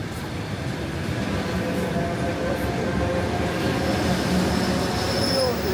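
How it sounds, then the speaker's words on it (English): An old Soviet-era electric train in Moscow rumbles along steadily, with a loud, continuous roar of wheels on rails and faint squealing, heard from inside the carriage. "we are going back on the oldest electric train, the only one we have left"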